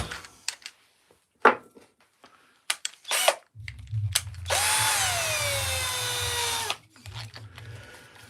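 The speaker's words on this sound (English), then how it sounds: "let's get this drill and get these drills." A few scattered clicks and handling knocks, then a cordless drill whines up close for about two seconds and winds down, followed by quiet.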